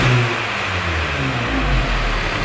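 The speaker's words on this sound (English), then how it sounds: "I'm just going to give it a couple of revs now just to make sure it sounds okay" A freshly installed engine in an Audi S3 revs up and settles, its loud, steady drone with rising and falling pitch filling the space close by.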